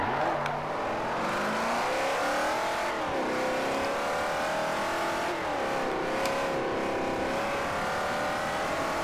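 Racing cars in the Forza 4 video game accelerating hard, their engine notes rising in repeated revving sweeps with gear changes and a brief tire squeal, loud and close without talk.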